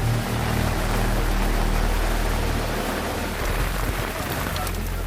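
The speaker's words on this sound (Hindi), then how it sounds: "चेन्नई में बेकाबू हवा चली और उससे भी ज्यादा मूसलाधार बारिश होती गई।" Heavy, torrential rain during Cyclone Michaung in Chennai pours in a dense, continuous roar, loud and close, with no pauses throughout.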